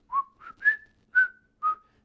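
A person whistles the Happy Birthday tune, five clear separate notes in a slow rising and falling phrase, close and alone against silence.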